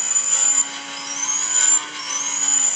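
Race car engine in a Roblox driving game, a steady synthetic drone with a high whine that shifts pitch as it runs along the track.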